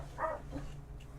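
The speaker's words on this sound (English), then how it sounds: "I apologize for all the barking." A dog gives a single faint bark, then a small yip, quiet against a low background hum, with no one talking.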